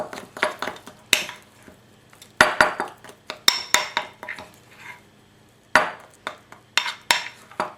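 Rosemary being mixed into homemade natural deodorant in a bowl, with sharp clinks and scrapes of a utensil against the dish in irregular bursts separated by quiet pauses, close and clear with no talking.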